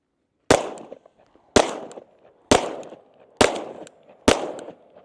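Five sharp gunshots crack out at an even pace during shooting-on-the-move practice, fired with the off hand. Each shot is loud and close and rings out briefly, with near silence between shots.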